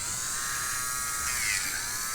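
Close, steady high-pitched whir of an electric nail drill at low speed working over a gel nail and cuticle area, with slight shifts in pitch as the bit presses, no speech.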